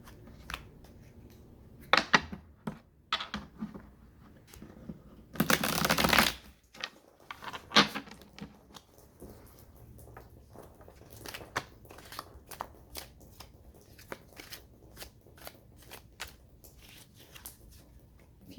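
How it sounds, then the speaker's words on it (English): A tarot deck is shuffled for a Libra and Scorpio love reading. Soft crackling riffles come intermittently, with one loud, dense burst of shuffling midway, recorded close but fairly quiet, and no one speaks. "Want me to shuffle again?"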